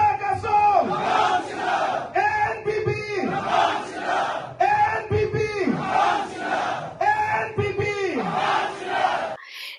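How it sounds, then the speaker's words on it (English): A large crowd at a rally in Tura, Garo Hills, chants a slogan in unison, loud rhythmic shouted phrases repeating in a steady cycle of roughly two seconds, close and sustained. "In Tura, crowds gathered in large numbers, chanting Achik Asong Tangbang China."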